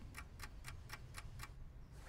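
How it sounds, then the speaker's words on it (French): A wind-up alarm clock placed behind a pet basket ticks in a steady rhythm, six or seven crisp, evenly spaced ticks, faint and close, with no voices. "On met un réveil matin qui fait tic-tac derrière son panier"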